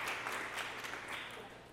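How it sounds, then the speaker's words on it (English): Audience applause for a student participant introduced at a college student association debate, a steady patter of clapping across the whole stretch, moderately quiet and fading slightly toward the end. "Please hold your applause throughout the event, except for now as we introduce our participants"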